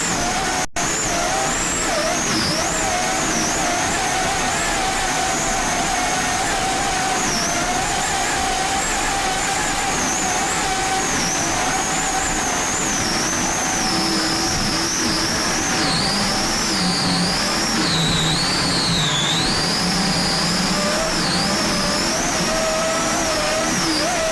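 Loud, continuous high-revving roar of an offshore racing powerboat, a Fountain hull with twin 1,250 hp Sterling inboard engines and MerCruiser drives, racing at the 1999 Key West APBA world championships, with a steady drone and shifting engine pitch throughout.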